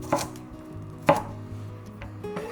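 A knife chops peeled garlic cloves into large pieces on a cutting board, a few sharp separate chops spaced about a second apart, close and fairly quiet, with no talking.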